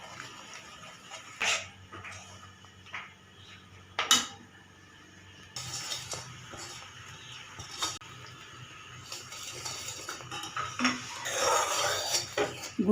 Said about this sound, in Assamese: গুড়খিনি এনেকৈ অলপ উতলিব লাগিব।